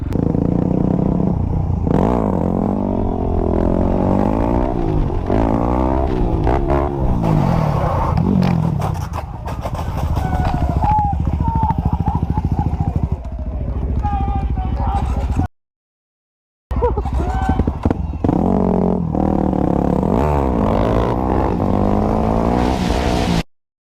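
A 250 motorcycle revs during stunt riding, its engine rising and falling in repeated sweeping surges with some clatter and scraping, loud and close, under people talking, with a brief cut to silence partway through.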